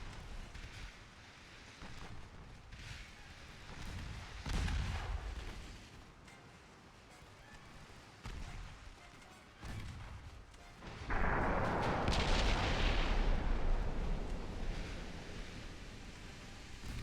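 Naval guns fire armor-piercing shells in Ultimate Admiral Dreadnoughts, with several deep booms rising over a rumbling sea-like wash and a heavy sustained roar toward the end.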